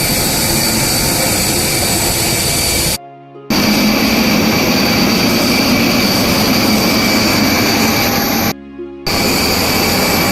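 A loud, steady jet airliner engine roar drones close by on an IndiGo flight to Delhi, broken by two brief dropouts where the sound cuts out.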